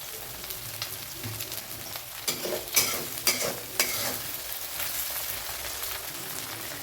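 An egg fries in a pan for street-style chicken rice, a soft steady sizzle with a few sharp scraping stirs of a utensil against the pan midway.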